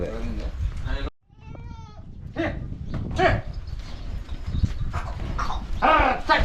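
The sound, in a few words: sheep and lambs in a sheep yard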